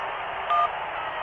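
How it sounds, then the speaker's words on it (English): A single short telephone dialing tone beeps in the Syberia video game over a steady background hiss. "No, oh, not another phone call."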